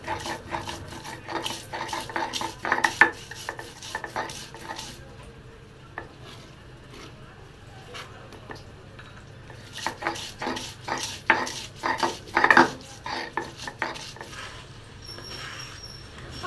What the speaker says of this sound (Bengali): সবশেষে কাঁচা মরিচ কুচি দিয়ে বেটে নিচ্ছি